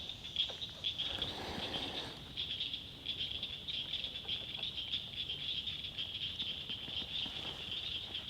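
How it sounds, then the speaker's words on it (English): Frogs in a South Carolina swamp lake, a dense continuous chorus of high trilling calls, with a brief rustling bump of handling noise near the start and no talk. "Hear all the frogs."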